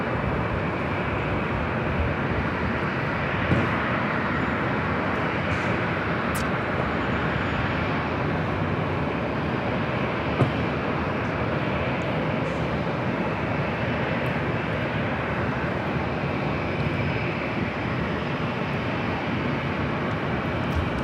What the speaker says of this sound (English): 2208, about to take off to Minneapolis on the 737 900ER